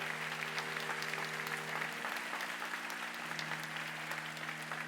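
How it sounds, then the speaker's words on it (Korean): Wedding guests applaud the bride and groom in a ceremony hall, a steady crowd clapping over a low sustained hum of music or instruments. "큰 박수로 이 두 사람의 결혼을 축하해 주십시오"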